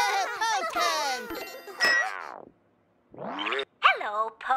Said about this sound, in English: It was Po's turn to answer the tubby phone